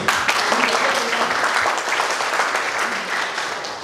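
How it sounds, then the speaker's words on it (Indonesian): Audience applause at a book discussion event, a full, steady round of many people clapping close by that gradually eases in loudness toward the end, with no talking over it. "Tepuk tangan dong."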